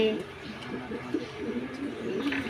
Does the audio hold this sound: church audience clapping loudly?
no